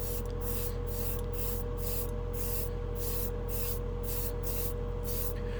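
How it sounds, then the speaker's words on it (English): Airbrush blowing air over a coat of acrylic hobby paint to dry it, a steady close hiss broken by regular brief pauses as the trigger is released and pressed again. "Let's go ahead and air dry it off, which shouldn't take much because I went with a great distance."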